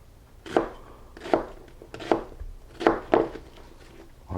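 A knife chops through an onion into half-inch pieces on a cutting board, five or six crisp, evenly spaced cuts, close and fairly quiet with no talking.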